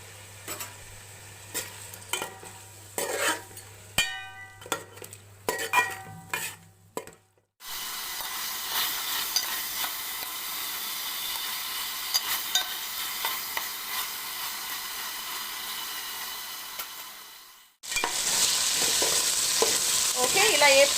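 Chicken pieces fry in a pan with turmeric, salt and ginger-garlic paste. Scraping and clinking stir strokes come first, then a steady hissing sizzle that grows louder toward the end.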